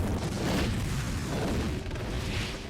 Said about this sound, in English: The extreme action provokes an explosion